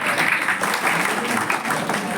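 An audience claps at an education award ceremony held at a cooperative bank, steady, dense applause from a crowd of people.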